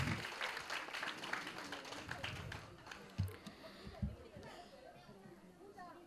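At a children's school event, an audience claps after a students' performance, a brief burst of quiet applause that fades within a few seconds into faint chatter and a few scattered taps.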